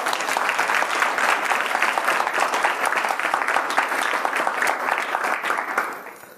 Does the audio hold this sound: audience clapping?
yes